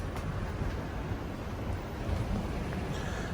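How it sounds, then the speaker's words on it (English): A sailboat about 30 miles offshore in the Gulf of Alaska, jibing down the coast in 17 to 20 knot wind, with steady roaring wind and choppy waves rushing past the hull, continuous and fairly loud with no voices. "We're up to 17 to 20 knots wind."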